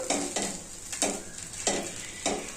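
Coconut poha being stirred in a pan, with repeated scraping strokes of a spoon against the metal roughly every half second over a soft sizzle, close and moderately loud.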